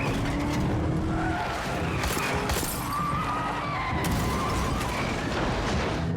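Cars skid and screech through a chaotic movie car fight as vehicles are forced out of the way, with continuous loud engine roar and repeated tire squeals filling the scene throughout.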